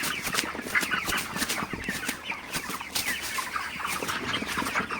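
Broiler chickens on a poultry farm cluck constantly in a dense, busy chorus of many birds, close by, with no voices.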